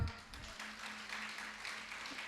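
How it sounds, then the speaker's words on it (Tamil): Soft, distant applause from a church gathering of women fills the room as a faint, even patter of many hands with a low steady hum underneath, no voices over it. "சகோதரிகள்லாம் நம்ம கைத்தட்டலாமா?"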